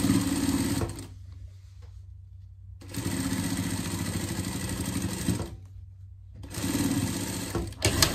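A sewing machine stitches a seam on a denim pet vest, running in steady whirring bursts of a few seconds each, with short quiet pauses between them, close and loud.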